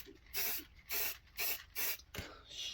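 Varnish sprayed onto a routed recycled-wood panel in four distinct hissing bursts, each about half a second long and evenly spaced, followed by a softer, longer spray at the end. No one speaks.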